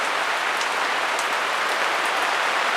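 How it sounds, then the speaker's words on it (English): Steady rain falls outdoors during an acrylic pour painting session, a dense, even hiss of drops pattering on surfaces, close and continuous with no talking. "I hope it doesn't keep raining any harder than this"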